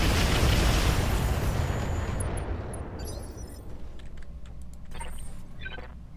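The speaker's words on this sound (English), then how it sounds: "Let's get some suppressing fire on this guy." A heavy roar of weapons fire and explosions in the mech game Roguetech, dense and loud at first, then fading into scattered crackles and pops with no talking.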